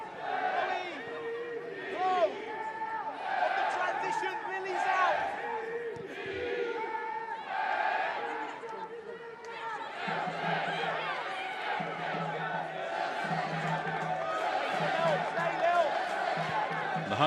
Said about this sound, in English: Home crowd looking to get behind their team here.